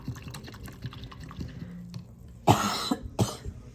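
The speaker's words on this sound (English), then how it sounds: "To clean my brush, I'm just kind of tapping against the bottom, swooshing a little bit." A paintbrush tapped against the bottom of a water cup and swooshed to rinse off acrylic paint, giving two short bursts of sloshing water near the end after quiet, faint knocks.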